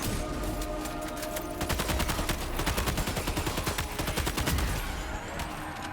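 Rapid automatic fire from an assault rifle in the video game Death Stranding 2, a steady stream of closely spaced shots lasting several seconds at constant loudness.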